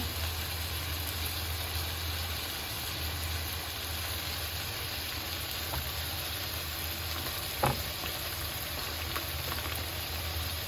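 Garam masala being stirred into food frying in a pan, giving a steady, even sizzle with an occasional faint scrape or tap of the spoon, no voices.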